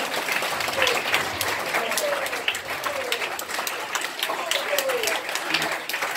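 Steady applause from a student audience at a vocational college opening ceremony, dense overlapping hand claps sustained at moderate level throughout, with faint voices mixed in.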